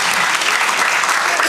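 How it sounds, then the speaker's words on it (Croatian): A concert audience claps loudly and densely for a tribute orchestra in Žepče, a sustained burst of applause with no pauses. "Nadam se da neki aplauz onako malo jači može da to potvrdi."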